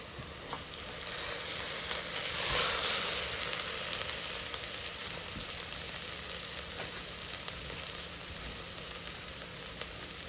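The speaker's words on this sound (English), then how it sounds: "That sizzle is exactly what we want." Steady, hissing sizzle of tomato sauce with red wine in a hot pan, continuous and fairly loud throughout, with a brief swell near the start and faint clinks.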